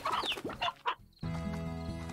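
Chicken clucking in the video game Slime Rancher: busy clucking and squawking bursts over the first second, a short pause, then a steady electronic music bed.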